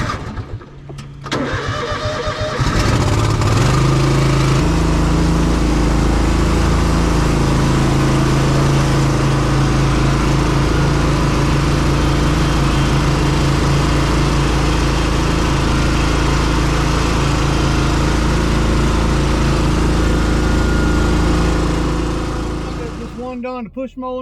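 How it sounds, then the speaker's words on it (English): A push lawn mower sputters as it is started, then catches and runs at a loud, steady roar close by for about twenty seconds before cutting out. "We're going to put the push mower up there."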